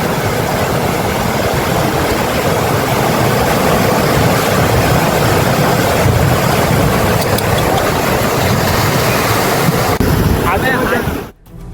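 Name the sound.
fast flood water current sweeping away a car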